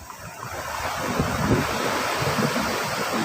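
Large waves crash hard against rocky shore, a continuous loud roar of surf with wind buffeting the microphone throughout and a surge peaking midway.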